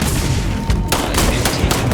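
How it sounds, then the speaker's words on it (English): Gunfire in the video game Starfield: a run of loud, sharp shots in several quick bursts spread over two seconds, each cracking out over a steady background of game noise, with no talking. "I am opening fire."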